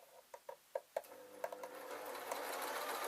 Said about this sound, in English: I'm basically going to sew this with a dart in